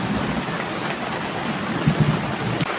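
Heavy tropical rain pours steadily in a rainy-season downpour, a dense unbroken hiss close by, with a couple of low rumbling swells near the end that fit distant thunder; no one speaks.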